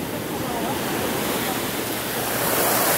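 Big ocean waves break and churn along the coast at Ixtapa during a fishing outing, a steady, loud roar of surf and wind with no clear gaps.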